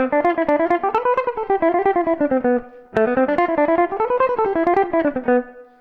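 Electric or clean guitar runs an alternate picking exercise, a steady stream of rapidly picked single notes rising and falling in a smooth wave, with a brief pause before the pattern repeats; alone, close and clear.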